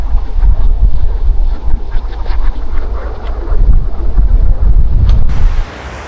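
Strong constant wind beside the Parvati River in Himachal buffets the microphone in heavy low gusts over a rushing river background, then drops off sharply near the end.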